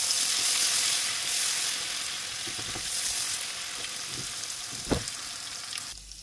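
About a tablespoon of garlic fries in a pan until reddish, the start of a beef tripe bhuna, giving a steady close sizzle with a few faint stirring clicks.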